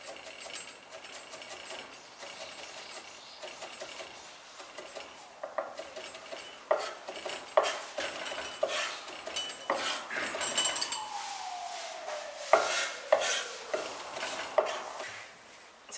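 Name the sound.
knife mincing ginger on a cutting board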